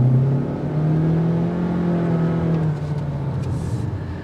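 Interior hum of a 2023 Honda Accord EX accelerating on a test drive, a smooth, moderate engine drone with a slowly rising pitch that settles into a steady whir.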